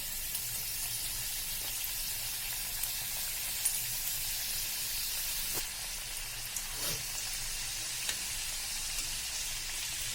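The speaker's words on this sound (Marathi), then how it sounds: "तापलेल्या तेलात आपण त्या करंजा टाकायच्या आहे जेणेकरून ती छान मधून मधून आणि बाहेरून दोघी साईडने छान तळली जाईल" Karanji (gujiya) pastries deep-frying in hot oil for Diwali, giving a steady, dense sizzle and bubbling hiss that continues unbroken throughout, with a few faint clicks and no voices.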